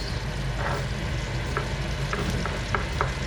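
Garlic and shallots cooking in a pan, a steady close sizzle with a few light stirring clicks and taps, no talking.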